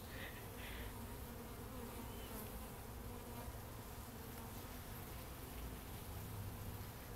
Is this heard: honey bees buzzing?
yes